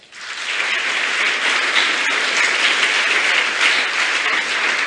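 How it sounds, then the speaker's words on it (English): A crowd gives itself a round of applause at a scholarship event, steady and even clapping from a fairly distant audience that rises quickly and holds at a constant level throughout. "Please give yourself a clap."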